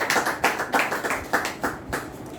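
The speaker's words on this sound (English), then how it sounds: "Let's give her a round of applause." A small seminar audience claps for a woman returning to her seat, the hand claps distinct and fairly close, settling into a loose, slightly uneven rhythm for a couple of seconds with no talking.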